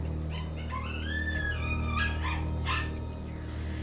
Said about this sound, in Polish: mój pies daje koncerty